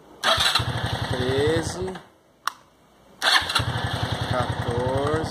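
A motorcycle engine cranks and fires on a recovered, previously discarded battery, running loud and close in two bursts with a brief quiet gap between them while someone talks over it.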